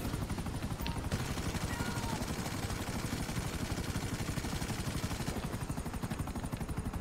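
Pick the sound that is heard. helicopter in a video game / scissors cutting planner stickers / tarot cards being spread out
helicopter in a video game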